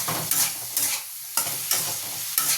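Onion and chopped tomato frying in a pan are stirred in quick, separate strokes. About six bright scraping bursts rise over a low sizzle, close and fairly loud, with no talking.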